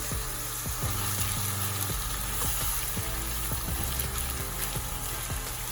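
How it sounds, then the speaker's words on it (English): A Korean-style beef mixture sizzles in a pan while a utensil stirs it, making repeated close scrapes and taps over a constant loud frying hiss with no voices. "I'm just gonna stir it all up until it's all combined."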